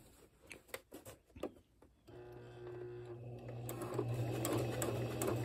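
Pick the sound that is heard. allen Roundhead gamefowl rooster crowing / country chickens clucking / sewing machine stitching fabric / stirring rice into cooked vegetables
sewing machine stitching fabric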